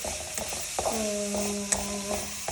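Food being stirred in a cooking pan in a home kitchen: scraping strokes over a faint sizzle, with a brief squeaky ringing tone in the middle.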